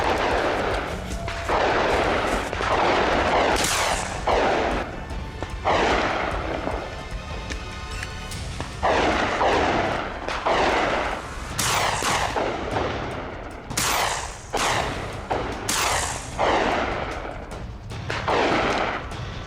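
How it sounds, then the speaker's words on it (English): Rapid gunfire from a rifle in a cold wilderness during wild boar hunting, loud sharp shots following one after another with booming echoes, no voices. "He raised his rifle and tracked their every tour, firing shot after shot with deadly precision."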